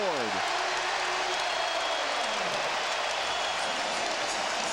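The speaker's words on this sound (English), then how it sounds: "they get a score, and the crowd reacts" Basketball arena crowd at a 2000 NBA playoff game between the Heat and the Knicks at New York, a loud steady roar of cheering that fills the whole stretch, with a commentator's voice faint near the start.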